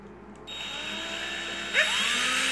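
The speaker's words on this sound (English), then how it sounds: "Drill." Electric drill whirring, starting after a brief quiet moment and holding a steady high-pitched whine, then rising in pitch as it speeds up, close and continuous.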